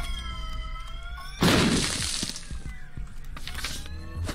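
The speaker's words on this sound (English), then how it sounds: "But I have a good feeling about this explosion here." A sudden bursting explosion in The Binding of Isaac: Repentance cracks out over tonal game music, then fades away over about a second before the music carries on.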